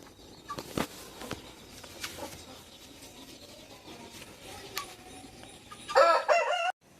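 Chickens and guinea fowl in a farmyard give scattered clucks and calls, with a rooster crowing loudly near the end, all fairly close.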